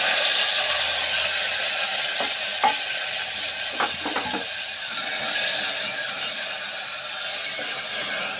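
Pumpkin seeds fry in a pan with oil or ghee, giving a loud, steady hissing sizzle close by. A few quick crackles and stirring scrapes break through midway, with no talking.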